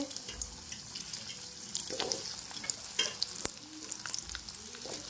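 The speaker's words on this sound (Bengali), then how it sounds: "এবারে আমি আলুটা ভাজতে দেব।" Potatoes fry in a hot pan over a low flame for a soybean and potato curry. A steady, close sizzle carries throughout, with occasional stirring clinks and scrapes and no talking.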